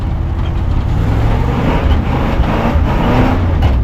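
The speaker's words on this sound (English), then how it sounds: "Oh my god, she'll freaking smoke the back tire." A Ford vehicle's engine roars steadily and close, with a low rumble as its back tire spins and smokes in grass, the revving holding fairly even throughout.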